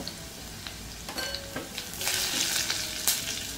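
Asafoetida sizzles in hot oil over lowered heat for dal-rice khichdi, a soft frying crackle that swells into a brighter, louder hiss near the end, with a few light utensil clicks.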